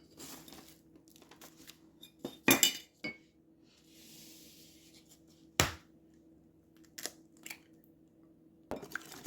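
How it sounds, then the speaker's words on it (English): An egg is cracked against a bowl and dropped into brookie batter, a few sharp clinks and taps spaced out over a quiet room, with light rustling in between. "Now we're going to add 1 egg at a time, and we're doing 3 eggs."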